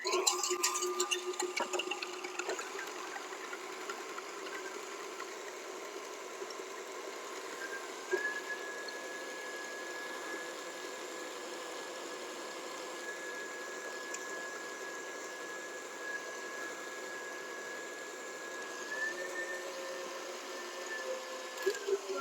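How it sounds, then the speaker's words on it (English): A stand mixer with a whisk attachment beats cold heavy cream at medium-high speed, a steady motor whir with a whining tone that runs the whole time, fairly quiet and alone, with a brief clatter at the start. "we're going to pop it into our mixer using the whisk attachment"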